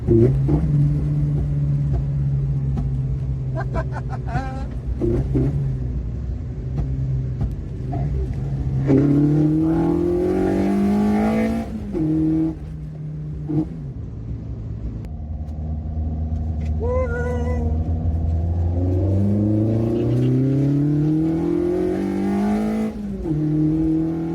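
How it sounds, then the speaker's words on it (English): A 90s hot hatch fitted with a swapped Vauxhall VXR engine breathing through throttle bodies, revving up and down repeatedly at close range, rising and falling in pitch with a deep rumbling idle between blips. "you can't beat the sound of throttle bodies"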